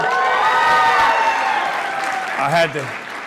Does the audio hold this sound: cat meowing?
no